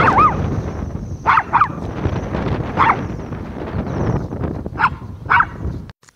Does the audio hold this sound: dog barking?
yes